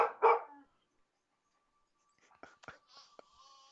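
A dog gives two quick barks up close, then after a pause faint yips and snuffly sounds follow while someone murmurs softly in the background.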